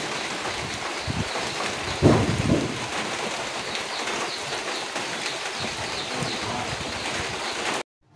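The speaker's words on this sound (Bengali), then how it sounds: "আজকে নতুন বছরের প্রথম বৃষ্টি হচ্ছে।" Rain falls steadily while thunder rumbles once early on and birds chirp faintly in the background, before the sound cuts off abruptly.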